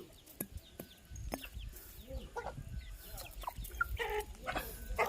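Chickens clucking in short bursts close by, mixed with a few bird chirps and low scuffling noise, a brief voice now and then.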